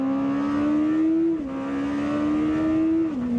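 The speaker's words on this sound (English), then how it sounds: "that super bike sounding twin turbo V8 making 907 horsepower" A Lamborghini Temerario's twin-turbo V8 revs loudly and close, its tone climbing steadily, dipping, then climbing again in two smooth, sustained pulls.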